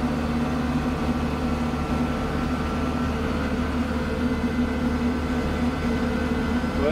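A snow blower clears deep mountain snow in January, its engine droning steadily and near with a continuous low, even hum and no voices.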